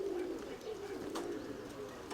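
Pigeons cooing steadily nearby, low soft burbling calls repeating over faint background noise.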